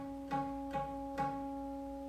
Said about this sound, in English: So 6th string at 7th hui sounds like this.